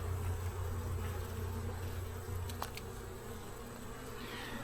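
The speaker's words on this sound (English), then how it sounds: "I'm standing to the right side of the hive, out of the flight path of the foragers." Honey bees, foragers included, fly around a hive in a continuous, steady buzzing hum that stays close and even throughout, with no voices.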